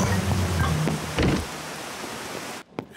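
Steady hiss of rain falling, close and continuous, fading softer partway through before a brief clatter at the end.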